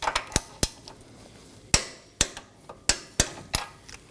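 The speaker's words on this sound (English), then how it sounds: "We're going to torque this down to 29 foot-pounds." A wrench works an 18mm castle nut onto a Nissan Maxima tie rod stud, giving a string of sharp metallic clicks and knocks at uneven intervals, close and clear with no talk.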